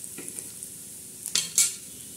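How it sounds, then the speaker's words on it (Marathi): Onion and whole spices such as coriander frying in oil in a pan for a fish curry, with faint sizzling, then two louder bursts of stirring and spatula scraping near the end. "आता हा कांदा आपण असा बाजूला करायचा, म्हणजे कांदा बी भाजतो आणि मसाला बी तळल्या जातो।"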